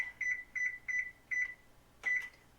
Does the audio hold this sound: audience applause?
no